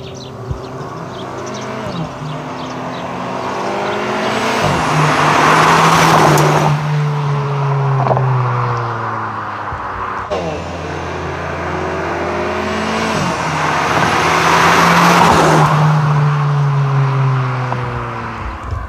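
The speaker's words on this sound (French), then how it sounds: "J'aime beaucoup le petit son de son moteur avec sa ligne. Ça fait vraiment un bruit sourd, un bruit rock" A car engine rumbles deeply through its exhaust line, rising and falling as it accelerates through the gears twice, loud and close with a throaty, muffled tone.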